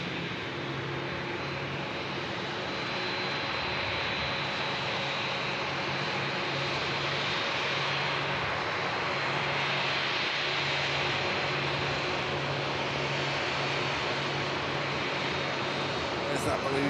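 Jet aircraft at Manchester Airport, a seven-year-old plane preparing for a 4,971-mile flight, gives a steady broad roar with low engine hum that holds throughout, fairly loud and continuous with no break.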